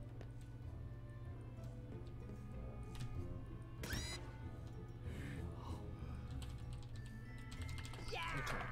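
Computer keyboard keys clacking while playing a game, quiet irregular taps over a steady low hum, with a few louder clattering bursts of game sound.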